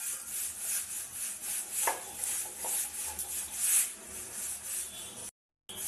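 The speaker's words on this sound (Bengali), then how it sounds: "সেটা পুরো মিহি করে বাটতে হবে একটুও ছাওয়া থাকলে ভাল লাগবে না সেটা মিহি করে বেটে নেবে" Mustard seeds being ground by hand into a fine paste on a stone, with a soft, steady rubbing and scraping back and forth close by, faint and rhythmic, with no talking.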